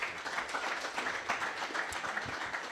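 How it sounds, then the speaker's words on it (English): Audience applause at a golf championship ceremony for golfer Amandeep at the SECL Chhattisgarh Open, a steady, fairly faint wash of clapping lasting a few seconds. "You definitely deserve a huge round of applause"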